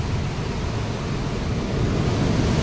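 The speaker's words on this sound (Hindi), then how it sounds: "अभी इस तरफ से पानी जो है वो बह रहा है" Water rushing steadily through an open gate at the Sukha Nala barrage near Dongargaon, Rajnandgaon, a loud, continuous broadband roar with some wind buffeting and no voices.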